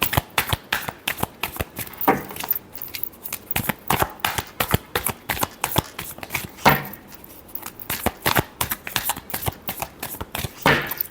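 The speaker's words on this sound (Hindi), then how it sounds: "Last shuffle." Tarot cards shuffled by hand during a reading, a steady run of quick riffling flicks and soft slaps repeating for several seconds, close and clear with no talking.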